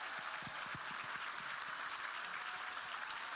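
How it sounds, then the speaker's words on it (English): Steady, sustained audience applause at a youth leadership awards ceremony, a dense wash of many hands clapping at even loudness throughout, with no voices over it. "Give everyone a round of applause."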